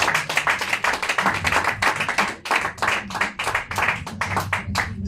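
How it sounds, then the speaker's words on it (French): A church congregation claps together in steady, rhythmic bursts during a lively worship service, the sharp hand claps filling the room continuously with a brief dip midway. "On acclame pour Jésus."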